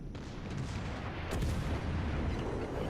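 High explosive tank shells burst in a tank combat video game, with a dense rumbling roar throughout and a sharper blast near the middle, fairly loud and with no talking.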